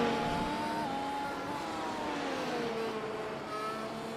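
Race car engines in iRacing at Zandvoort hold a steady high-pitched whine, shifting pitch slightly as the car eases off and picks up speed again. The sound is continuous and fairly loud, with no talking.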